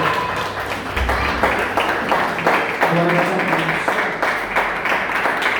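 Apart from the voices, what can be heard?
church congregation applauding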